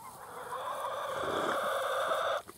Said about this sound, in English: Why are these chickens putting pressure on me?